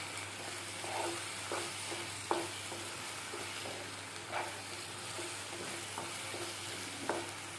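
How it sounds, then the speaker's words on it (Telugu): Spices fry for an Andhra-style pandugappa fish curry, giving a soft, steady sizzle broken by a spoon scraping the pan every second or so. "పచ్చివాసన పోయే వరకు వేయించుకోవాలి"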